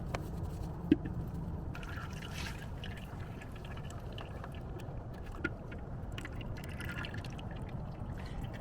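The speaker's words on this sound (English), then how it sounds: "I'm draining it into a food grade measuring container" Engine oil from a 4.7-liter 2UZ-FE V8 in a Lexus LX470 drains into a food-grade measuring container, a soft steady liquid trickle with faint clinks, close but quiet, with no talking.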